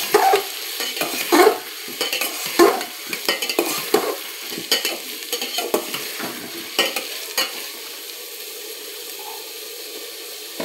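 Onions and spices with salt fry in a pot for handi mutton, heard as a close sizzle broken by repeated scraping stir strokes, busy at first and then settling into a quieter steady fry.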